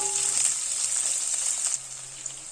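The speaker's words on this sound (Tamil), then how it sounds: "ஒரு 15 வெங்காயம் நல்லா வதக்கிக்கலாம்." Sliced shallots and curry leaves sauté in hot oil for a steady, close, fairly loud sizzle that softens slightly near the end, with no talking.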